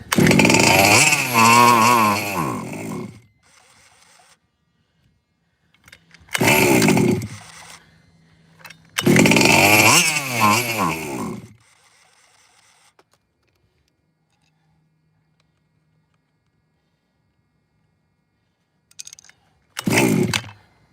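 A nitro engine in a Team Losi large-scale RC car buzzes loudly in three short revving bursts with quiet gaps between, then a brief final burst near the end, as it is choked and restarted.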